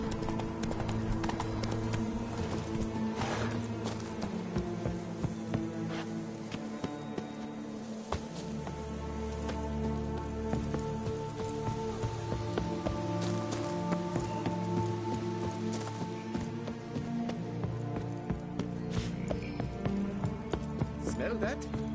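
Roach the horse galloping in The Witcher 3 while riding through Toussaint: steady rapid clip-clop of hooves under a continuous game music bed, close and even throughout.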